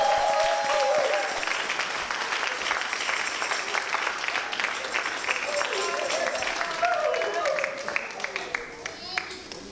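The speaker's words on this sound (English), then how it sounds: "Stand up on your feet and give her a hand clap, because she did great." A church audience applauding on its feet after a Noah's Ark adaptation performance, steady dense clapping sustained throughout and loud, with voices over the top of it.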